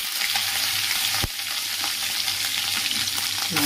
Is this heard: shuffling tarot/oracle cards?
no